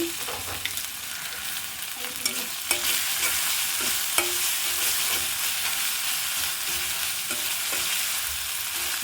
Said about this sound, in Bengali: সেই জন্য আমি এটা আর একটু ভালো করে ভেজে নিচ্ছি